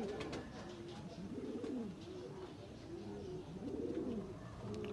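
Qasoori Golden Kamagar pigeons cooing in soft, repeated low rolling calls, several overlapping coos at a moderate distance against quiet background noise.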